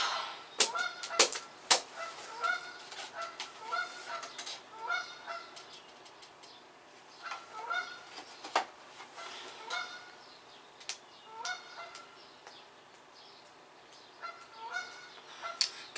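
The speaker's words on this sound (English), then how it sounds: "Here go these damn geese." A flock of geese honking outdoors, a long run of repeated, overlapping honks that come in irregular bursts, some loud and near, others fainter, with no talking.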